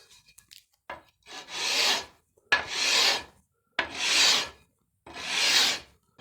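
Four long, even rasping strokes of sandpaper or a file working a wooden guitar neck, steady back-and-forth rhythm with brief pauses between passes, close and loud.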